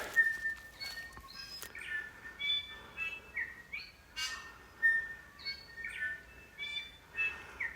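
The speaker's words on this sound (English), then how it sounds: "Gotta love the bird song in Rusa country." Birds chirp and whistle in bright, separate calls from the bush of Rusa deer country, the phrases repeating at a steady pace against quiet air with no talking.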